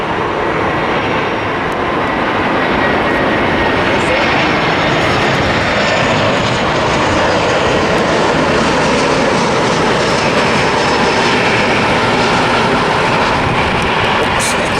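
A Delta airliner comes in to land, its jet engines making a loud, steady, broadband roar that fills the whole stretch without letup and with no talk over it.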